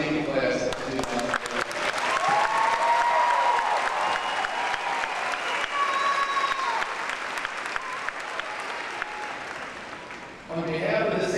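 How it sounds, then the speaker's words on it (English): A large crowd applauds a graduating high school class of 2013, the clapping loud, dense and sustained for about ten seconds before it thins, with a voice rising near the end. "how about another big round of applause for this outstanding class of 2013"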